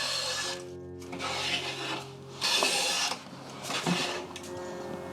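A hand plane with a freshly sharpened, set blade shaves wood in several long rasping strokes, each a broad scraping hiss separated by brief pauses, close and clear.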